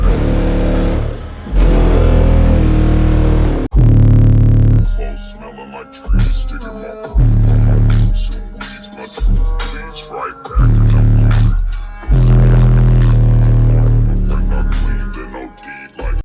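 A 3200 RMS car audio setup with a bulk subwoofer and mid-range speakers plays music inside a Scorpio, very loud with booming bass. The music comes in repeated pounding sections separated by short near-silent gaps, and no one speaks.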